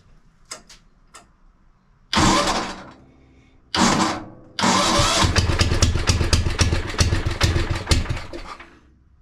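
An old rare tractor engine with the choke on cranks in a few short attempts, catches briefly twice, then starts and settles into a loud, steady, slightly uneven idle close by.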